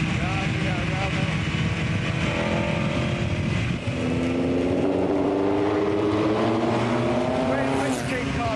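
A 1959 Cooper Climax racing car engine pulls hard under power, its harmonic drone climbing steadily in pitch after a brief lift, loud and close, with someone talking over it.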